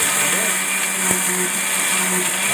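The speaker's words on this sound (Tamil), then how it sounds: "இது வந்து இட்லி பொடி அரைச்சாச்சு." Mixer grinder whirring steadily as it grinds roasted chana dal, urad dal, peanuts, sesame seeds and dried red chilies into idli podi powder, a continuous loud motor whine with a faint hum underneath and no talk.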